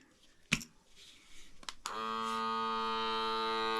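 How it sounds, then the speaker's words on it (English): A couple of sharp clicks, then a vacuum sealer's steady mechanical motor hum starts and keeps running at an even level. "I'm gonna get my vacuum sealer on here."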